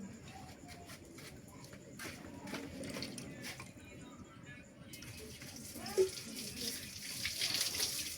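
Water runs softly from a tap while food is washed for picnic cooking, a faint continuous splashing under occasional voices talking nearby.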